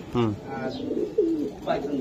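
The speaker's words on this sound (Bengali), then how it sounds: "এই যে কবুতর বন্ধুরা, এটা হলো কবুতর" Racer pigeons cooing in a loft, a few low throaty coos and bubbling calls close by, mixed with people talking.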